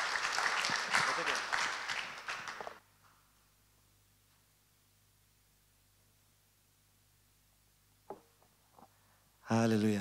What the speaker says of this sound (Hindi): क्यों ना जोरदार तालियों के द्वारा उनको हम बधाई दें।